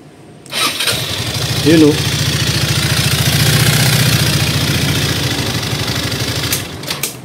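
A Motorstar Easyride 150fi motorcycle, one with a recurring head cover oil leak, cranks briefly and catches, then settles into a close, steady idle with an even rapid putter. A voice speaks briefly as the engine starts.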